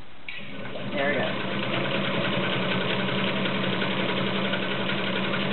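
Vintage pink Atlas sewing machine running a zigzag stitch, a steady close mechanical hum and rapid clatter that starts up after a brief moment and continues evenly throughout.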